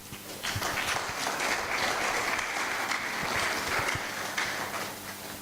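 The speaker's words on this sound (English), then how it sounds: "Can we go on clapping?" Audience at a colloquium celebration breaking into sustained applause, a loud, dense wash of many hands clapping that continues steadily for several seconds without speech.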